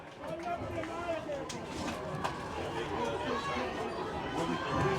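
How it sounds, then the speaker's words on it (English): Steady crowd chatter and murmur fill the stands at a Columbia High School girls' softball game against James Caldwell, a continuous, fairly close wash of many voices with a few brief louder shouts rising above it. "you can really hear the Columbia crowd now"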